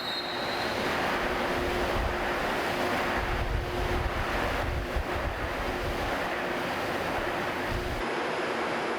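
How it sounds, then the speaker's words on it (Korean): Artificial waves and wind churned up in an indoor marine rescue training pool. A loud, constant roar of rushing water and gusting air fills the space with no voices, then it drops suddenly near the end. "여기 앞뒤로 일하면서 파도를 만들어주거든요."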